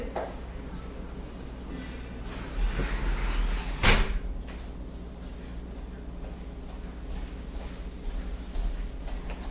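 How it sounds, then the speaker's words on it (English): Doors being shut indoors: a single sharp, loud slam lands near the middle, with a softer knock just before it, against quiet room tone. "let me shut my doors."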